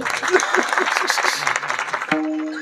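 Audience clapping breaks out during a kirtan, a dense patter of hands under a speaking voice, followed by a brief sustained tone near the end.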